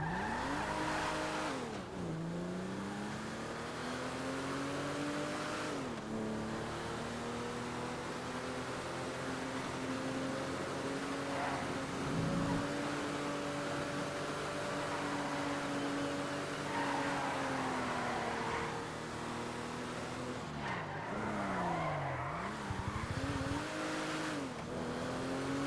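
A four-door car is test-driven in a video game, its engine droning steadily with rising and falling revs and brief gear-shift dips, a continuous synthetic motor tone with faint tire noise and no speech.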